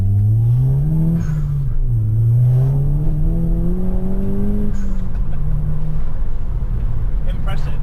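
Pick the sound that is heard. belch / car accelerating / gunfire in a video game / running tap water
car accelerating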